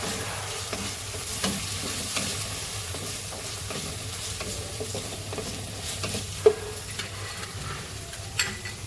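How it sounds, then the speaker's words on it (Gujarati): Raisins roast in hot oil in a pan, giving a steady, close sizzle and crackle with a low hum beneath and a few sharp stirring clicks near the end. "એમાં આપણે કિસમિસ શેકી લઈશું।"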